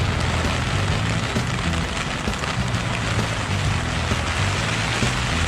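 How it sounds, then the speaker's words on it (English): Steady heavy rain pours down on a tent campground at Hither Hills State Park in Montauk, New York, during a passing storm, a dense, continuous hiss that stays close and loud throughout with no voices. "Well, here comes the rain."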